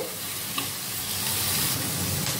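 Vegetables for restaurant-style egg fried rice fry in a hot pan, making a loud, continuous hiss of sizzling oil with light stirring throughout.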